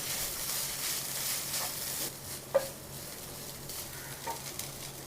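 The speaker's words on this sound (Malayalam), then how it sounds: "നല്ല രീതിയിലൊന്ന് മിക്സാക്കാം." Ground chicken stirred into softened fried onions in a pan, a quiet steady sizzle under a few soft scrapes and one sharp clink of the spoon.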